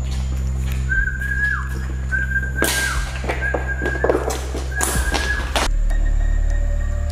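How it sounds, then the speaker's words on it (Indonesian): A person whistles to call out ghosts during a night-time ghost hunt, giving several short, clear whistles in separate bursts, mixed with nearby thumps and rustling over a steady low hum. "Ini akan gua lakukan bersiul untuk interaksi dari mereka"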